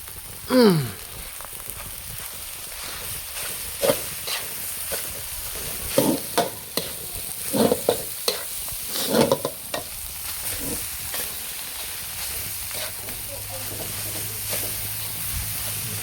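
Spicy field rat stir-fried in a pan sizzles steadily up close, with repeated scraping and clattering of a utensil as the meat is tossed, and no talking over it.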